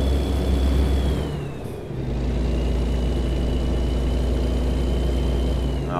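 A Scania Series 4 truck engine in Euro Truck Simulator 2 drones loud and low, briefly dropping as a gear shifts before pulling steadily again with a rising whine.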